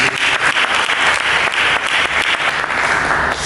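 A church congregation bursts into loud, close, dense clapping that holds steady for a few seconds, many hands together with no one talking.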